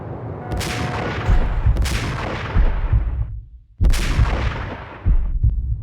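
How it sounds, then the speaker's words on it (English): Sniper rifle shots in the Max Payne game: three loud, close booming cracks, each followed by a long rumbling decay, with gaps of about a second or more between them. "Sniper rifle."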